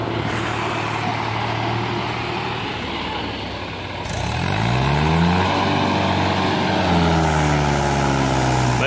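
Tractor engine loaded while hauling poplar wood, a loud steady diesel drone close by that rises in pitch and strains after a few seconds, its harmonics sweeping up and down as the revs change.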